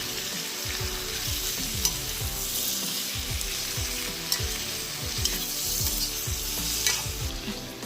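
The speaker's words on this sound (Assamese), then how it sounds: "বিলাহীখিনি গলি লোৱালৈকে মই ভাজি থাকিব লাগিব।" Chopped tomato frying with pork in a pan cooked without oil, giving a steady close sizzle broken by repeated clinks and scrapes of a utensil stirring throughout, with no voices.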